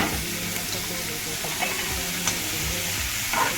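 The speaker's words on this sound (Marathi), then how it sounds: "आता मी ह्याच्यामध्ये कोलिम धुवून घेतलेलं आहे ते घालते आणि चांगलं एकजीव करून घेते" Washed dried shrimp (kolim) stirred into a sizzling masala in a pan, with steady frying crackle and scraping stir strokes close up, no talk.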